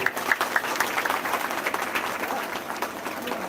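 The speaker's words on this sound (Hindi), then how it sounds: "इनका स्वागत करेंगे, ताली बजाएंगे," An audience at a music program applauding steadily, many hands clapping at once in a dense, even roar that carries on without a break.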